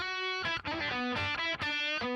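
Electric guitar lead played through a Headrush Soldano extended range amp model, thick and distorted, with a few sustained singing notes and quick changes between them, heard alone.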